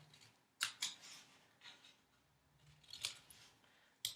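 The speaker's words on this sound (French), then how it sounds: "nous allons venir couper ici et ici, légèrement de biais" Scissors cutting paper for a mini accordion scrapbook album, a few crisp close snips spaced irregularly over quiet background music.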